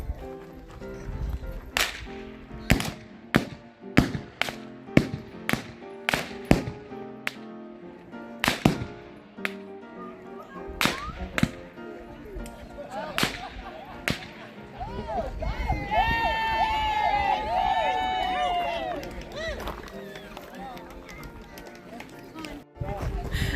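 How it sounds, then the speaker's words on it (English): Gunshots ring out in a staged gunfight reenactment at a ghost town celebration in Custer, Idaho, with sharp, loud cracks fired irregularly, several in quick bursts, amid crowd chatter and a long shout near the end. "that was a gunfight"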